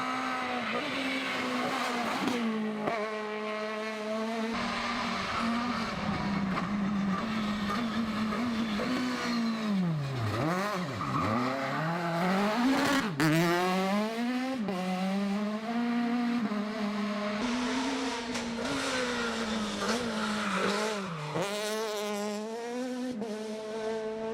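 A Peugeot 306 rally car races along a rally stage, its engine screaming and droning through rising and falling revs as it shifts gears. The sound stays loud and close the whole way, with no voices.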